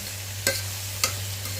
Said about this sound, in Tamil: இஞ்சி பூண்டு பேஸ்ட்டு சேர்த்துட்டு இதையும் நல்லா அந்த எண்ணெயோடவே நல்லா பரட்டி விட்டுக்கலாம்